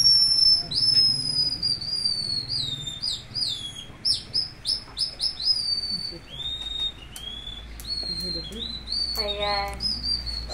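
A person imitates a bird call with a series of high, clear whistled chirps and warbling trills over about ten seconds, set in Palawan. The whistles sound near and fairly loud against faint background noise.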